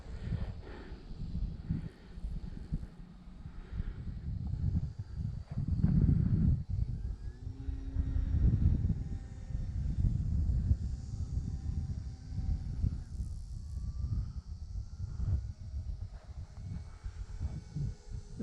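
An E-flite T28 radio-controlled model airplane passes overhead outdoors, its engine a steady droning whine that swells and fades with wind rumble on the microphone.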